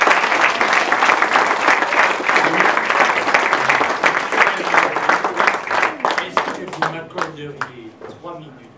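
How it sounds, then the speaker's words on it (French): A crowd applauds at a festival awards and closing ceremony with sustained, dense clapping. The clapping thins into scattered claps near the end as a voice begins speaking. "Vous pouvez les applaudir."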